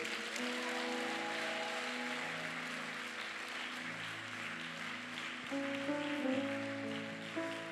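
A church congregation applauds loudly in praise of the Lord, a dense, steady wash of clapping layered over sustained musical tones that swell slightly near the end.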